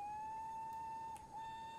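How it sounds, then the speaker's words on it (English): Steam locomotive whistle in Train Simulator 2019 on the Didcot route, one long steady tonal blast with a slight dip near the end, loud and alone. "Oh, that's a nice whistle."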